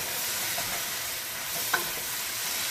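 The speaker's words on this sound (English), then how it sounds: "I'm going to be adding the potato first, because potato is a little bit harder." Potato sizzles steadily in a hot pan, a continuous bright frying hiss with a faint scrape of stirring partway through and no talking.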